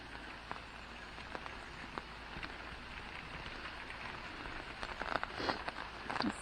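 Light rain patters softly outside a backyard chicken coop, with faint scattered drips and a few sharper taps over a quiet, steady hiss.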